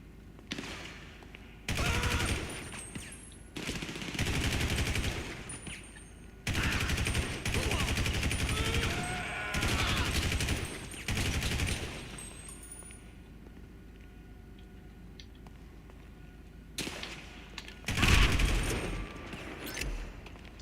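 Automatic gunfire in GTA 5 Online, with a full magazine emptied in long rapid bursts that start and stop repeatedly, then a final short volley and a heavy boom. Occasional voices are heard between bursts.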